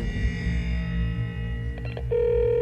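A telephone dials out to call back a teacher, a run of electronic keypad tones and beeps ending in a sustained steady tone, with no talking.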